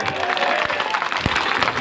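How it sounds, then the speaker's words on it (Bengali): A crowd at an election campaign rally in Dhaka's Ward 24 claps in a short, dense burst of applause, loud and continuous for a couple of seconds. "আমার জন্য একটা হাততালি হবে না?"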